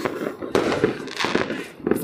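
New Year fireworks going off in a few loud, sharp bangs with crackling bursts between them, fairly close.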